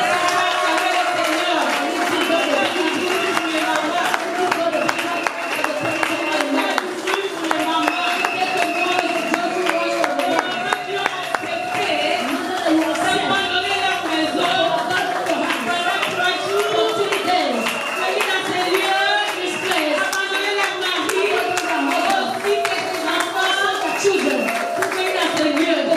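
A church congregation applauds together in honour of the mothers present, a steady wash of many hands clapping with cheering voices mixed in, loud and continuous throughout.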